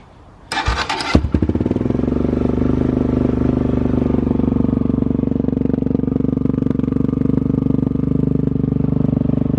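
A Kawasaki KLX351 dirt bike with a new aftermarket exhaust fires up after a brief clatter, then settles into a loud, steady idle close by with a throaty, even rumble.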